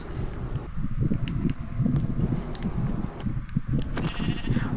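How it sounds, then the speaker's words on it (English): Sheep bleat repeatedly in the video game Minecraft, several wavering nasal calls overlapping at close range over a constant windy background. "Why do I see sheep over here when I barely even saw sheep anywhere?"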